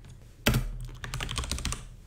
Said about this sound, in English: I can type on the keyboard and get the value echoed straight back to me.